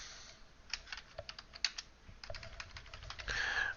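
A file name being typed on a computer keyboard, a quick irregular run of close, crisp key clicks with short pauses between bursts and no talk.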